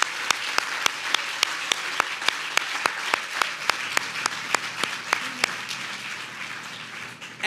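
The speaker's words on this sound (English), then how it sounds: "I'd like to thank him and give him a round of applause" Audience applause at an awards evening for the CEO of the Community Food Bank of New Jersey: a dense, steady wash of many hands clapping, with a few sharp claps standing out near the start, fading gradually toward the end.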